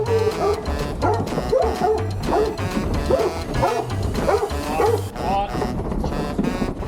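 Farm dog barking in repeated rhythmic bursts near a pasture with pregnant ewes, several close, loud barks and yips in a steady pattern.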